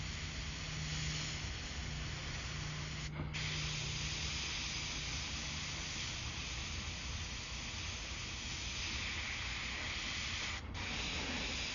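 An airbrush sprays paint in a steady, close hiss that runs unbroken throughout, with two very brief interruptions along the way.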